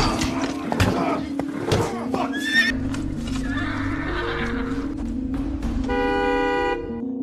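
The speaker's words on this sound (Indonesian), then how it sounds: "membunyikan klakson sebagai tanda isyarat" A car horn honks in a sustained blast amid busy background noise, with horse whinnies and other scattered sounds mixed in.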